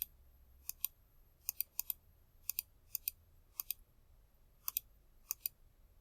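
A computer mouse clicks on a shuffle icon, giving crisp, close double clicks in pairs, spaced irregularly over quiet room noise.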